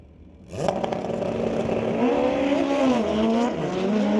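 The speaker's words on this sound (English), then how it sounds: "that'll bring up Corey Craig and Jody Brickwood, the back pairing here in motorcycles" Harley Davidson motorcycles at a drag race launch loudly and hold a steady roaring engine drone with rising pitch, close and continuous, with some tire squeal mixed in.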